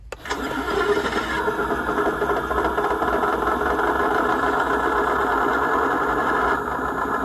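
A steady simulated tank engine hum from a 1/16 scale Churchill Mk VII RC model tank, with a rough, tractor-like chugging idle, running continuously at close range with a slight shift in tone near the end.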